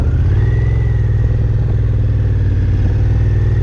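A motorcycle engine runs close and steady at low speed, about 7 or 8 miles an hour with the clutch slipped in the friction zone, giving a constant throbbing drone with no change in pitch.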